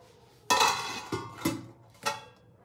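A metal lid clanks down onto a pot holding a honey fruit cake set over hot sand on a stand, with a loud first clatter followed by three shorter rattling knocks as it settles, no voices.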